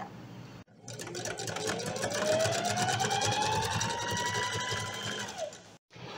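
Sewing machine stitching a seam on a blouse, a steady close motor whir that holds for about five seconds with its pitch slowly rising, starting and stopping abruptly, with no talk.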